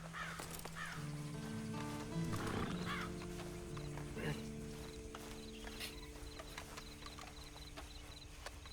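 Horse hooves clip-clop and a horse whinnies in the Western video game Red Dead Redemption 2, set under a steady musical drone with scattered voices speaking at a moderate distance.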